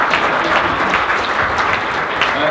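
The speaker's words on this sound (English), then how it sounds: "He got the lot, give him a round of applause." A live audience claps steadily and continuously at a science show at the Adelaide Mini Maker Faire 2015, a dense, close, even burst of applause with no voices over it.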